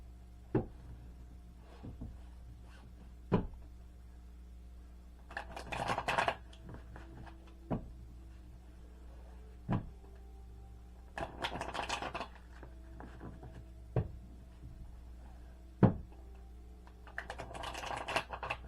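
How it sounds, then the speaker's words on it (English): Tarot cards shuffled by hand at close range, with repeated bursts of papery riffling between sharp taps and clicks of the deck, no voices. "Shuffle these cards, but I like to make sure that I put a shuffle that is purposely shuffled in order to spread out energy."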